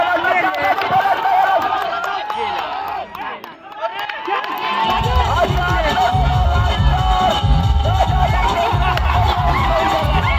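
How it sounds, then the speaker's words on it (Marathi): Crowd cheering and shouting in celebration after Lanja team wins the final of a cricket premier league tournament in Rajapur; a loud, sustained roar of many voices with thumping music joining partway through. "लांजा संघाने अंतिम सामना जिंकलेला आहे आणि आता हा जल्लोष बघा"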